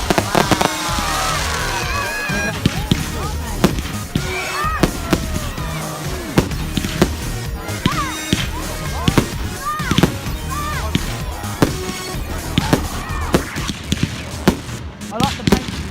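Bonfire Night fireworks display with repeated sharp bangs and crackling bursts at irregular intervals over a steady rumble and crowd noise, with people talking throughout.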